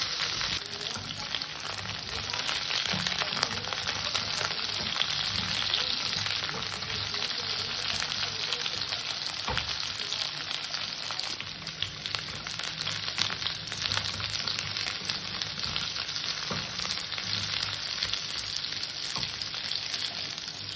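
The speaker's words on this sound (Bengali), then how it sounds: "উচ্ছেটা একটু হালকা ভাজা ভাজা ভাজা করবো।" Bitter gourd and potato fry in a pan with a steady, even sizzle throughout, close and continuous, with no voices.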